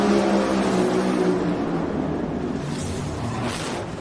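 Top Fuel dragsters roaring down the strip at NHRA Pomona, a loud, dense engine blast that fades into a distant rushing roar over four seconds.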